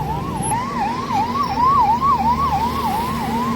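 An ambulance siren wails in a steady rising-and-falling pattern, loud and continuous at a roadside accident scene where a trailer struck people, with traffic rumbling underneath.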